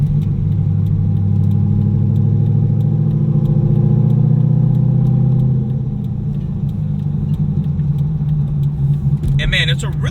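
A 600 hp C5 Corvette Z06 drives along with a deep, throaty engine drone that swells then eases off, loud and close from inside the car, with faint ticking and jingling near the end.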